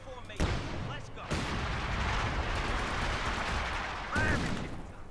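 A mortar halftrack firing in a combat video game, with loud booming blasts and shell impacts at the start, around one second and near the end, over constant battle noise and rumble; voices may be mixed in.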